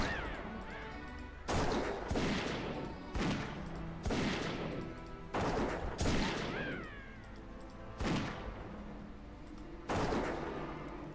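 Gunshots blasting orcs in World of Warcraft, a series of loud, spaced impacts roughly every second or two, each a sharp crack with a booming tail, mixed with other game effects.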